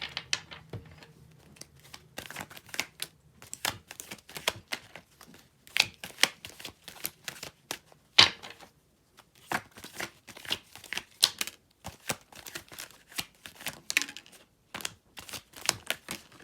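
Tarot cards being shuffled and handled, producing irregular papery riffles and snaps with a sharper slap near the middle, close and fairly quiet, with no talking.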